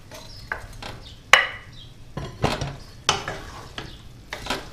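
Sausages in a thick sauce are stirred in a pot for rougail saucisses, heard as a series of distinct scraping and clacking spoon strokes against the pot every half-second or so over a soft bubbling simmer.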